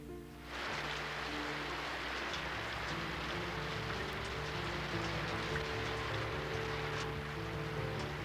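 Steady rain falls continuously, a dense, even hiss of drops on surfaces starting abruptly after a brief quiet moment, with a low background rumble and no voices.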